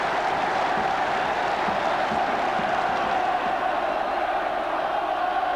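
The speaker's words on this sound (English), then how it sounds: "The crowd going wild still." A packed stadium crowd at the 1979 rugby cup final between Moseley and Leicester cheers and roars continuously, a dense, loud wash of voices with no break.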